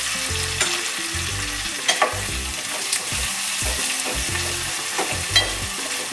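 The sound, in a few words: onion frying with turmeric in pan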